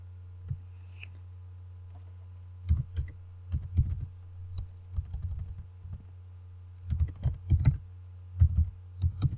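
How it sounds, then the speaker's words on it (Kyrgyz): Keys clatter on a computer keyboard in bursts of quick clicks, with pauses between runs of typing, close and fairly clear over a steady low electrical hum. "Кайра мен жазып атам"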